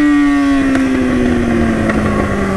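A steady motorcycle engine drone hums continuously, its pitch sliding slowly downward as it idles and settles, fairly loud and close; the motorcycle is an old Honda Titan.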